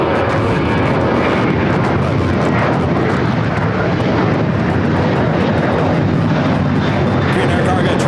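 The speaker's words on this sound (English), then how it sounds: "Green Air Cargo 777 freighter going short" A Boeing 777 cargo freighter arriving at LAX roars past on approach, a loud, sustained broadband jet rumble that holds steady throughout, heard from beneath the arrival path.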